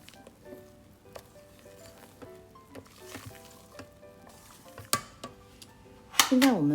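A spatula gently folds a mixture into longan cake batter in a bowl, with soft scraping strokes and light taps against the bowl, and a louder clatter near the end. A person talks quietly over it.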